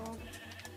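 Sheep bleating in the Minecraft video game on Xbox 360: a short, close bleat filling the brief moment, with no talking over it.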